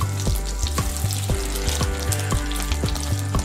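Fish egg fritters frying in hot oil in a pan, a steady bubbling sizzle broken by regular soft knocks and clinks as the fritters are turned one by one, close and fairly loud, with no talking.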